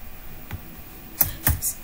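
A few scattered keystrokes on a computer keyboard, crisp clicks spaced irregularly over a faint background hiss, no voices.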